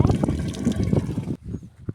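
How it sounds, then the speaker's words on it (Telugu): Water pours and splashes steadily into a container for over a second, then stops, leaving a few faint drips and knocks. "చూడండి, దీంట్లో నీళ్ళు పోతున్నారు."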